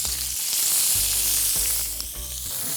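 Chicken thighs laid skin side down into hot olive oil, a loud steady sizzle and crackle of searing close up, with low pan rumble underneath and no talking.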